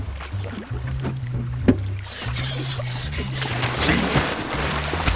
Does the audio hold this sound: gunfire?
no